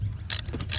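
A bolt is tightened by hand on an Audi Q7, producing a few quick, close ratcheting clicks in a brief burst.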